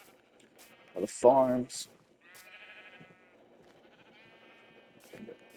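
Sheep bleat from pens in a video game, a loud wavering bleat followed by softer drawn-out bleats, with someone speaking briefly over the quiet farm ambience.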